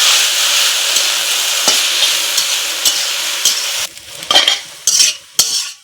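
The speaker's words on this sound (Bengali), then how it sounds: "এখন একটু নাড়াচাড়া করে নেব।" Dhekia greens being stirred in a pan with salt and green chillies, a steady loud sizzle under scraping spatula strokes, the sizzle dropping away near the end to leave a few sharp clinks and scrapes.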